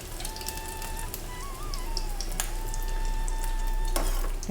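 Egg and potato snack balls dropped one by one into hot oil, frying with a continuous close sizzle and crackle, scattered pops and a faint steady tone underneath.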